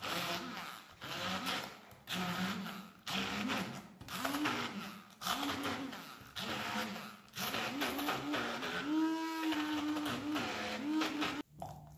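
A kitchen blender whirs in repeated short pulses, mixing zucchini with tuna mousse, its motor pitch dipping and rising with each burst before a longer steady run, close and loud.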